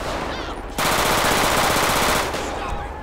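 Automatic gunfire in GTA 5 erupts as one loud sustained burst of rapid shots lasting under two seconds, framed by quieter game ambience before and after.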